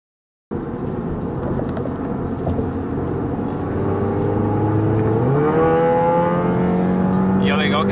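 A 2016 Audi TT pulls away under hard acceleration with its exhaust valve opening, the engine note rising loud and steady, then climbing in pitch through the revs with no talk over it.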